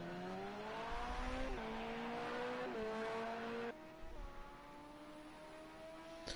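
A Porsche race car in Project CARS 2 brakes into the first corner at Hockenheim GP during an endurance race. Its engine drops through several quick downshifts, then revs steadily at a middle distance, with no talk.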